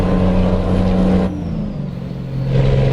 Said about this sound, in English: it's quite a loud engine noise